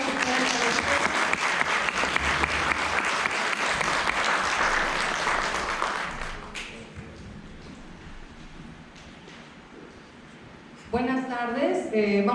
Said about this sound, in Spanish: Brindamos un fuerte aplauso nuevamente a la profesora.